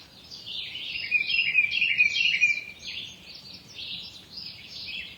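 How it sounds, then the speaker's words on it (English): Birds sing in quick, high chirping phrases that rise and fade over a soft, steady background, with no voices present. "And maybe you have bird song surrounding you."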